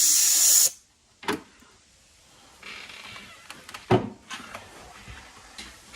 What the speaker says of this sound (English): you could take a little can of air and spray